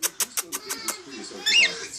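Cockatiels after a handfeeding give a run of short, sharp chirps in a quick regular rhythm, then a louder squawk, close to the microphone and perched on a shirt, with a voice softly in between.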